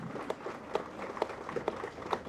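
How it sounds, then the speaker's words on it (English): Guests at an EU celebration event in Harare clap faintly, with sparse, distinct claps rising now and then above a quiet, distant room. "May we also give a round of applause."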